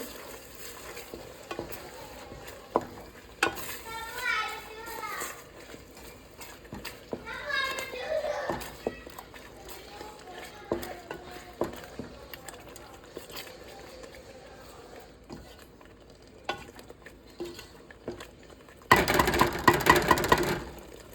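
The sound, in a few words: frying ingredients in a pan for blue crab curry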